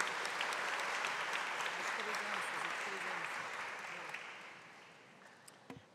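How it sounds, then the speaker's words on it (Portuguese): Applause from an audience at a formal ceremony on violence and political justice, a broad sustained wash of many clapping hands that fades gradually toward the end, heard without talk. "E muitas palmas, Toninho, por favor."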